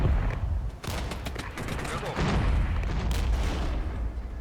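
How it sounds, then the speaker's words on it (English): Artillery barrage in the Cold War strategy game Regiments, shelling a German defensive line: a dense, continuous roll of booming impacts and crackling volleys, loud and unbroken throughout. "Let's order an artillery barrage over here."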